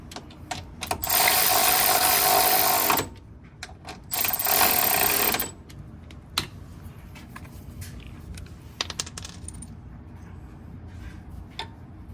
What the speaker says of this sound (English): After you put the bolt in, you can tighten this.